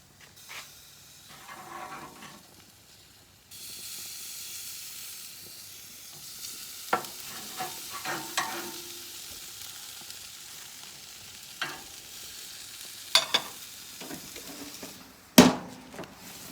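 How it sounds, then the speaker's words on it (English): Steak frying in a pan: a steady sizzle rises partway through and continues, with scattered clanks and scrapes as the meat is handled and flipped, ending in a louder knock. "Gotta flip my steak."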